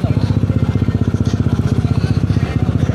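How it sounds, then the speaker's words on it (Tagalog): Many motorcycles gathered together, idling with a fast, steady, pulsing engine chug close by, while voices chat over it. "Ang daming motor ah."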